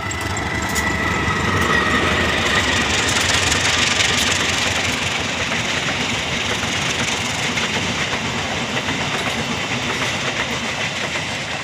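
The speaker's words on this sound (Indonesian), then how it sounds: "nah itu dia ya kereta api lokal Garut Cibatuan sudah melintas ya" The Garut–Cibatuan local passenger train in Indonesia rumbles past close by, its wheels clattering steadily over the rails with a loud, continuous roar that slowly fades a little.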